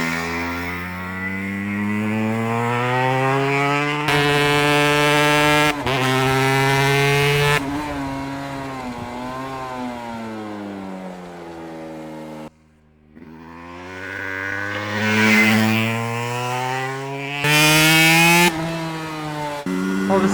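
A Langen two-stroke cafe racer motorcycle engine revs loudly and close by, its buzzy pitch repeatedly climbing and falling through several throttle blips, with a brief drop to idle midway.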